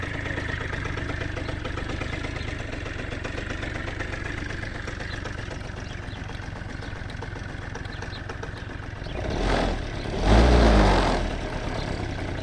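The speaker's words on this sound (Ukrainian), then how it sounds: "Ну, мопед робить гарно" A moped engine idling steadily and evenly close by, then briefly revving louder near the end before settling back to idle.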